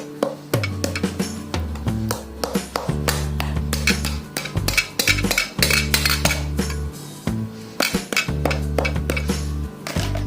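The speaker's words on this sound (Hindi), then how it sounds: "आप एक चम्मच लें और इनको सीधा करके जोर जोर से इनको मारें।" Beef pieces for pasanday pounded flat with a spoon, a close series of sharp metallic clinks and knocks in uneven bursts, with ringing tones from the dish between strikes.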